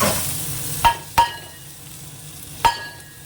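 Cumin, dried chillies, bay leaves and chopped onion fry in oil with a continuous close sizzle, punctuated by three sharp metallic clinks of a spatula against the pan, with no voices.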